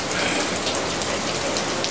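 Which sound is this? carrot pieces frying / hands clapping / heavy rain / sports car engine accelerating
heavy rain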